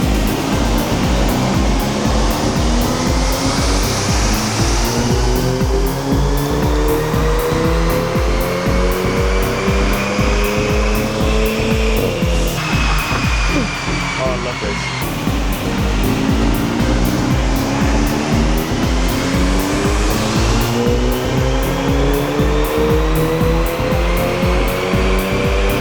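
Audi TTS engine running hard on a dyno during stage one mapping, a loud continuous roar with rising and falling revs, pulling up through sweeps, dropping briefly mid-way, then climbing again.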